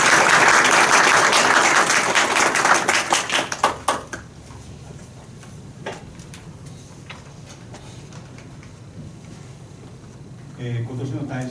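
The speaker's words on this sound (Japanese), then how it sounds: "拍手でお願いします。" Loud applause fills a Waseda University e-Teaching Award ceremony hall for about four seconds, then fades into quiet room tone with a few scattered claps and a soft rustle near the end.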